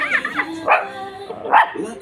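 A pet dog barks at its own reflection in a mirror, giving a few sharp close barks and yips spaced apart, with whimpery tones between them.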